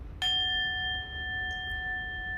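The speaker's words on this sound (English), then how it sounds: "Bells also are used in ceremony." A ceremonial bell is struck once and rings with a clear, sustained metallic tone that hangs steadily and slowly fades, heard alone and up close.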